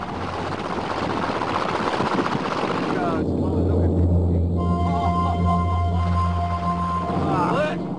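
B-25 bomber engines drone in flight, a loud continuous roar with a steady low propeller hum that grows smoother and more tonal partway through.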